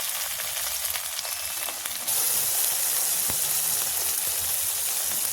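Tomato goes into a pan of lightly fried onions for a fish curry, and a loud steady sizzle jumps up sharply and stays bright and close, with no talking.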